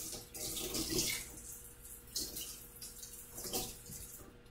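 Tap water runs into a kitchen sink while food is rinsed during plant-based yellow curry prep, a steady soft hiss with splashy surges as the food is moved under the stream, fairly quiet and close.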